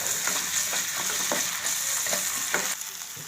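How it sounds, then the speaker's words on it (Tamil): Onion with ginger garlic paste sautéed in a pan for Bombay chutney makes a close, steady sizzle with regular scraping stir strokes, easing slightly toward the end. "இப்போ லைட்டாக வதக்கிக்கலாம்"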